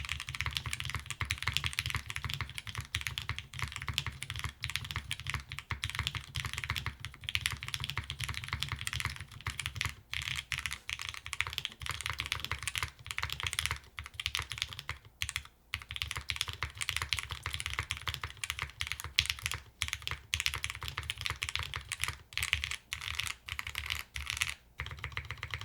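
Continuous rapid clacking of a Juna mechanical keyboard in top-mount configuration, fast close-up keystrokes with a muted, toned-down character and no talking over them.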